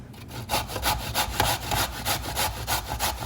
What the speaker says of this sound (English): I'm using my trusty box grater to grate the carrots